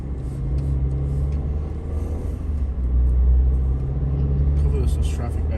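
A car drives along a suburban road in Riverview, Florida, with a steady low engine and tyre rumble that swells slightly midway, heard from inside the cabin while people talk.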